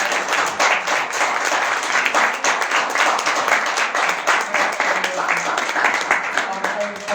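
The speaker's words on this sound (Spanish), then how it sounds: "un aplauso, ¿no?" Audience at a book presentation applauding steadily, a dense wash of many hands clapping throughout at moderate loudness, with faint voices underneath.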